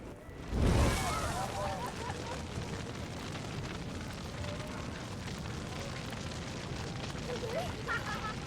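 A sudden fiery blast erupts as a man sets himself alight in The Witcher 3, a sharp loud whoosh-boom followed by a sustained roaring crackle of flames, with voices talking over it.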